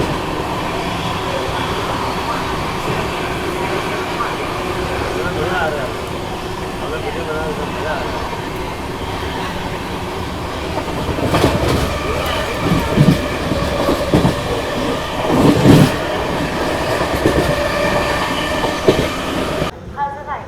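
Mahabodhi Express, Gaya–Delhi service, rolling steadily near Mirzapur station as the Chambal Express passes the other way, with a constant rumbling roar, rising clatter and bursts of passing-train noise in the middle, and faint voices underneath.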